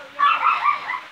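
A pet dog gives a few short, excited yips and whimpering barks at close range in a home, clustered in quick bursts with no talk over them.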